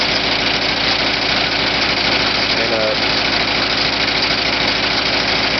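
A tractor engine runs steadily at close range with a knocking, vibrating idle rumble throughout, set up with a three-point hitch winch for moving a mobile greenhouse; someone speaks briefly over the engine noise.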